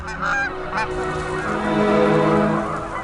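A flock of migrating Canada geese honks in overlapping, nasal calls, loud and close, with a busy chorus of cries layered over one another.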